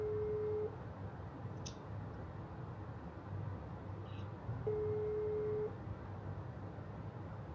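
Telephone ringback tone during an outgoing call in Indonesia: two steady, level beeps about a second apart, each roughly a second long, over a constant hum of background noise, with no talking.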